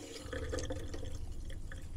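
Pink antifreeze runs from the cold tap of a kitchen sink in a Boler camper trailer, a steady trickling splash with small drips against the basin, close and continuous.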